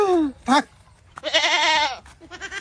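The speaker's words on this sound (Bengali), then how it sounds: "ওই ছাগলের ডাক শুনলি না?" A goat bleats several times in wavering, quavering calls, one long loud bleat in the middle and shorter ones around it, close by with a brief spoken word in between.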